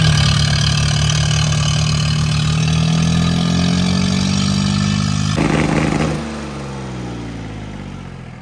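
Tractor engines from Sonalika, Mahindra and New Holland roar loudly and steadily during a tractor tug of war, a close, constant diesel drone that drops to a lower idle near the end.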